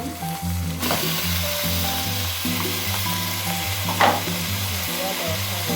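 Red pepper and onion frying in a pan sizzle steadily and close by, with a short clatter of stirring near the start and a brief scrape later, while a steady tonal hum sounds alongside.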